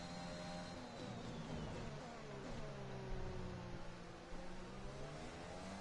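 Formula 1 cars, a Williams and an Alpine, run wheel to wheel in the racing game F1 2021; their engines give a faint, steady high whine that rises and falls slightly, heard alone and at a distance.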